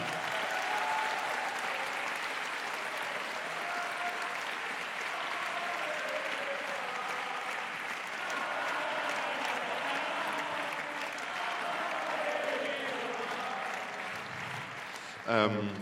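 An audience at an anniversary meeting applauds warmly and continuously at moderate volume, the steady clapping filling the hall with faint voices mixed in.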